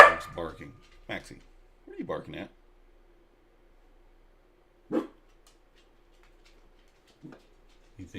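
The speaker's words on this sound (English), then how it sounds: "the dog's barking." A pet dog barks indoors in short, separate bursts: a couple of quick barks, a pause, then single barks spaced several seconds apart, with a person speaking briefly near the start.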